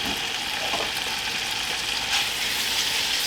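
Steady, close sizzling of beef frying in hot butter in a pan, a dense crackling hiss that continues without a break.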